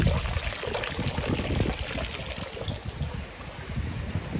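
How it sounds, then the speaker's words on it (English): Water pours steadily into a koi pond at the inlet, a continuous close trickling and splashing rush with no pauses, loud and even throughout. "Just squirt into the pond where the water's entering the pond."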